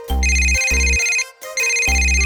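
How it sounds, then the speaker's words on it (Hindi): A phone rings with an electronic ringtone, two loud, bright bursts of melody close by, separated by a short gap. "किसका फोन आ रहा है?"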